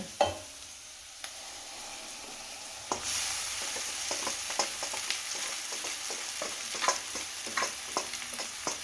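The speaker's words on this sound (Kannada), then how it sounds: "ಈಗ ಇದಕ್ಕೆ ನಾನು ನೂಡಲ್ಸ್ನ ಹಾಕಿ ಮಸಾಲೆನ ಹಾಕ್ಕೊಳ್ತೀನಿ" Hakka noodles stir-fried with masala in a pan, a steady close sizzle broken by frequent quick scraping and tossing strokes in an uneven rhythm.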